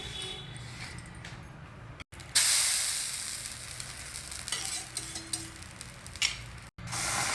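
Oil crackles and sizzles on a hot dosa tawa, a loud bright frying hiss that jumps up after a brief gap and continues with small pops and spits, cut by short silences.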